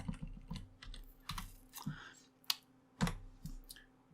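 Keys on a calculator or keyboard are pressed in a quiet, irregular series of distinct clicks with pauses between them, no one speaking.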